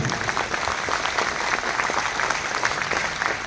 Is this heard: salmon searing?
no